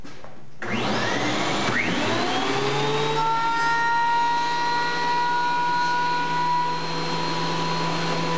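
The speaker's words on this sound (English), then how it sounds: "We're going to cut these free, run them through the planer again, and get two perfectly flat sides" A thickness planer surfaces wood boards for an inlaid sitting bench, taking them down to 1 1/4 inch: the motor spins up and settles into a loud, steady whirring drone with no voices.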